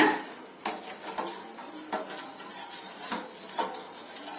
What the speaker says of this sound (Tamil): சால்ட்டு சேர்த்து நல்லா கலந்து விட்டுருங்க